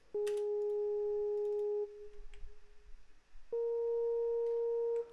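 A Surge synth lead with no effects plays two clean, pure sustained notes, one low and one slightly higher, separated by a short quiet gap, dry and alone.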